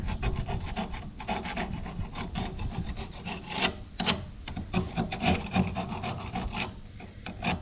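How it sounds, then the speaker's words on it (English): Grease scraped off a John Deere 7000 corn planter, a dense, continuous rasping scrape with repeated strokes, loud and close throughout. "I will go ahead and scrape the goop off of here"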